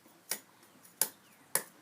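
Scissors snip through a thick aluminum drink-can sheet being cut into a square for a DIY alcohol stove, three sharp, fairly close clicks spaced about half a second apart over a quiet background.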